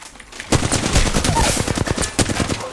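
Rapid gunfire in the Free Fire battle game, a dense stream of close, loud shots with short pauses between bursts over about three seconds.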